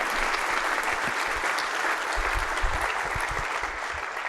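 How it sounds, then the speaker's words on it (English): An audience at a talk breaks into sustained applause, a dense, even wash of clapping hands from a sizeable crowd, close and continuous throughout. "let's give Adam a round of applause"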